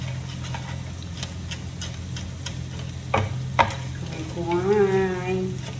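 A dish frying and being stirred in a pan, with steady sizzling hiss, a few sharp scrapes and clicks of the utensil, and a brief voice-like tone near the end.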